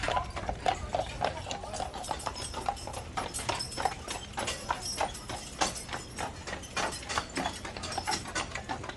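Horse hooves clip-clop in a steady, regular rhythm on a hard surface, fairly close, with faint background activity, on Mackinac Island, Michigan, where saddle horses and carriages are for rent.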